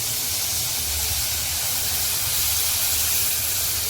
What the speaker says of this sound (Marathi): एकदम लसणाची फोडणी दिली, एकदम सुगंध एकदम घरभर पसरला.